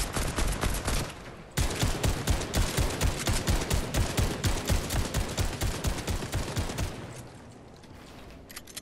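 Rapid automatic gunfire from a video game, a long dense burst of evenly spaced shots after a brief opening volley, loud and close, fading into quieter scattered pops at the end.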